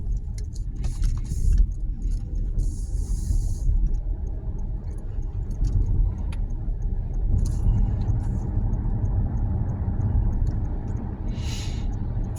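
A car drives through snowy streets in Frankfurt, its steady low road rumble and tyre noise continuing throughout, with faint clinks and brief hissing passes over the top.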